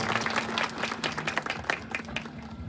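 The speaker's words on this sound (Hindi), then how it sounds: "कृपया उस व्यक्ति के लिए एक बार आप उनके अभिनंदन में एक बार ताली जो है वो बजा दें" An audience at an event in Dehradun gives applause honouring a person, with distinct individual claps scattered over a softer wash of clapping and a faint steady hum beneath.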